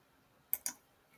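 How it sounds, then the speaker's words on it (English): Two quick, crisp computer mouse clicks in close succession, near and quiet, with silence around them. "Click out of here."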